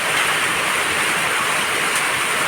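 Heavy afternoon rain falls nearby as a loud, even, unbroken roar with no voices.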